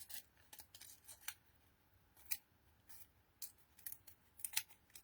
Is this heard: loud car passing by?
no